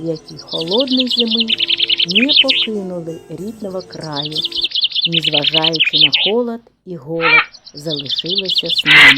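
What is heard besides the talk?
wintering birds chirping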